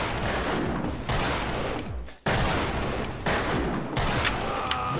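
Western-style gunfire in the multiplayer game Fistful of Frags crackles in dense, overlapping volleys that keep up almost throughout, breaking off briefly near the middle before resuming loud and close.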